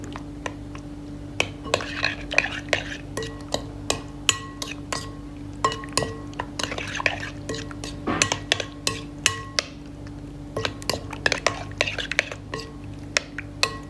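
A red bean salad tossed with pomegranate molasses, a spoon scraping and clinking against a bowl in steady irregular strokes, close and fairly quiet, with no talk over it.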